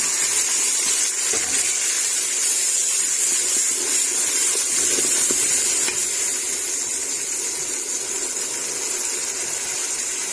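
Paste added to hot butter in a pan for maash dal, giving a continuous loud, even sizzling hiss throughout.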